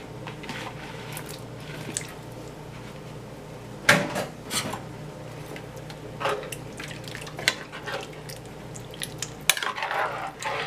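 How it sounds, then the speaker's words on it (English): Diced potatoes dropping into a simmering chicken pot pie filling, with soft wet plops, clatters of a utensil against the pot and a steady low kitchen background, close and moderately quiet. "I'm going to go ahead and add my potatoes."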